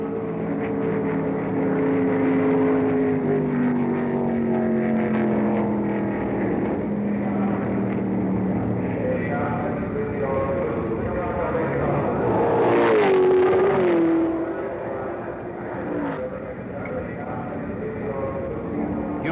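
1968 Can-Am race cars at the Stardust Grand Prix in Las Vegas, engines howling and rising through the gears as the field passes, with a louder car sweeping by near the middle and a commentator talking over the din.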